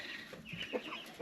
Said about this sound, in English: We got a lot of chicks,